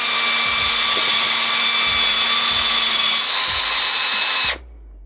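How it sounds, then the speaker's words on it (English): A power drill with a 3/8 bit reams out a hole in wood, a loud continuous high whine with periodic dips in load as the bit bites, then the motor cuts off abruptly near the end. "That's a crappy 3/8 bit. Nope. We're just going to ream that other side out a little bit real quick."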